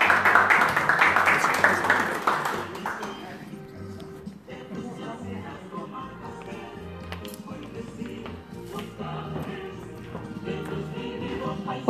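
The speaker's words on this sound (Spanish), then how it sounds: "Démosle un caluroso aplauso a ella también." Warm audience applause at a tribute gathering in Madrid honours Viviana Zambrano, president of an association of Manabí residents. Dense, loud clapping fills the first three seconds, then fades into music and room murmur.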